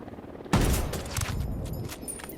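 Synchronized sniper shots in Ghost Recon Wildlands, with an M110/SR-25 in use: one sharp, loud crack then echoing, rattling follow-up gunfire that trails off over a couple of seconds.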